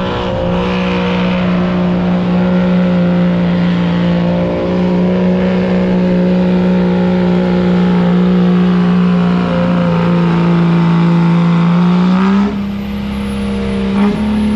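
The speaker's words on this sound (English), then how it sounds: "All right, first street class truck goes 269 feet." A street class pickup truck engine roars continuously during a truck pull, a loud sustained drone under strain for the whole stretch, dropping off briefly near the end.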